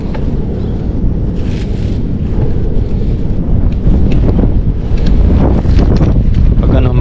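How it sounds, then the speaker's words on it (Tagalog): Strong outdoor wind buffets the microphone loudly, a heavy continuous roar with gusts that swell and build toward the end. "Medyo malakas po ang hangin ngayon."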